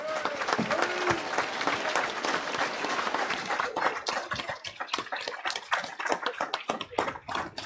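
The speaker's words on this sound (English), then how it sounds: "Give them a round of applause, y'all." Audience applause at a Passover 2020 church gathering in Atlanta, a steady dense round of clapping that thins toward the end into scattered individual claps, with a brief voice near the start.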